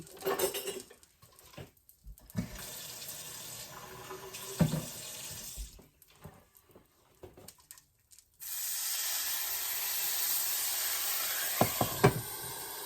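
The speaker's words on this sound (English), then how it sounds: "we're going to put a lid on this after we incorporate a little bit of water for steam" Water hisses and sizzles steadily in a pan of sausage and pancakes being steamed under a lid, after a few clinks of cookware, a loud continuous spray-like sputter filling the second half.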